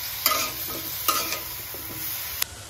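A banana peel curry with ground cumin is stirred and fried in a pan, giving a continuous close sizzle broken by three or four sharp scraping clacks of the spatula.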